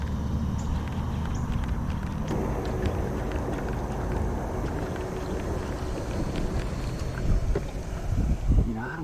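Steady wind rushes across a fishing boat on a brackish-water lake, a continuous low rumble of microphone buffeting with small knocks and water movement, moderately loud throughout.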